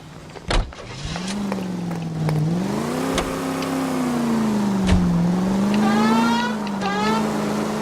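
A car engine in LA Noire drives and revs up steadily, its pitch rising and falling with acceleration throughout, loud and close, with a brief thud near the start.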